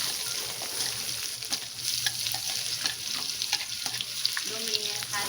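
Chopped onion sautéing in hot oil for dal fry, a steady close sizzle with stirring scrapes throughout, no voices.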